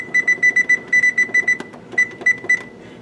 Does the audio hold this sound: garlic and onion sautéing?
no